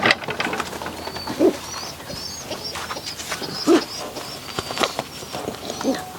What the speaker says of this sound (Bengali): এটা সবুজ দোবাজ একটা মাদি কবুতর ডিমে আছে